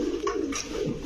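A pigeon coos briefly and softly at a pigeon shop, one low throaty call, close by and faint against quiet background.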